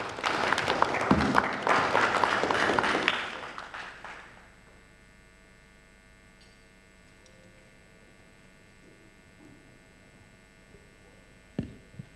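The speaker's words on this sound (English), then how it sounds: "Round of applause, please." A forum audience at an oil and gas business event gives a brief, dense round of applause that fades after a few seconds into quiet room hum, with a single sharp knock near the end.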